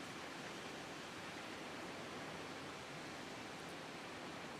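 Water rushing into a spring in Wind Waker HD, a steady, even, hissing gush that runs unbroken from start to end, faint and with no talking.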